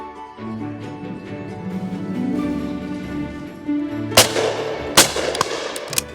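A William Powell Perdix shotgun fired at partridges on a game shoot, with three or four sharp loud reports near the end, the first ones close together, over a background of low outdoor rumble.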